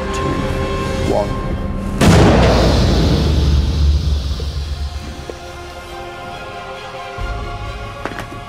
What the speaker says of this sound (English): that worked like a cannon should work